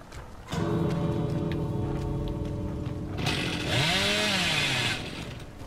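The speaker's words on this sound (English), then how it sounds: "Wait, I can use my chainsaw." Chainsaw in the horror game Dead by Daylight revs loudly and steadily, its harmonic buzz rising into a sharper, sweeping whine near the end before cutting back, with no talking.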